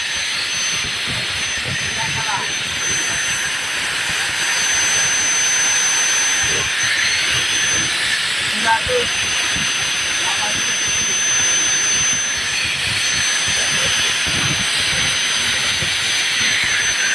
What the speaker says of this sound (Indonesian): Gerinda nyala, bor nyala.